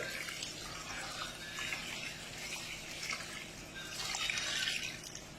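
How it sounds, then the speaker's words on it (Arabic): Water is poured into a pot of chicken mandi with tomatoes, hot pepper and salt. It makes a faint, continuous splashing trickle that grows a little stronger toward the end. "وراح اضيف المي ان شاء الله"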